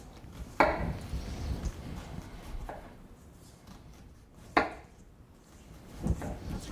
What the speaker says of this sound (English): Even less than that if you don't like big chunks of onion, and just slowly cut through them